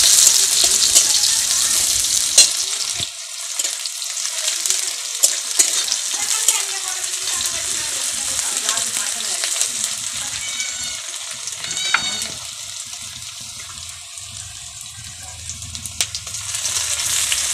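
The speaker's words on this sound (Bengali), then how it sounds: "হালকা নেড়ে নিয়ে এবার দেওয়া হচ্ছে কুচানো পেঁয়াজ। হালকা নেড়ে নেওয়া হচ্ছে।" Chopped onion sizzles loudly in a hot pan and is stirred, with scraping spatula strokes and crackling oil over a steady frying hiss, close and continuous.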